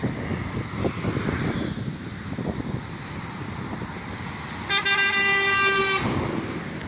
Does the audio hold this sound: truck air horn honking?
yes